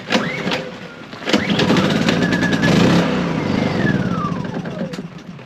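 A Honda outboard-type engine on a boat is pulled over and catches after its spark plug is refitted, with rapid cranking bursts giving way to a loud, steady running drone that holds close and continuous.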